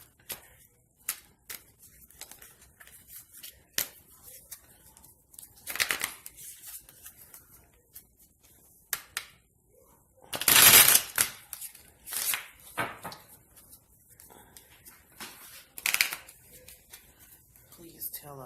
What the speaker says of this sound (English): Shuffle these over a few times.